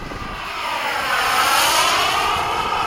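HSD Super Viper turbine RC model jet flying overhead, a steady loud whine and rushing roar that builds slightly and holds without talk.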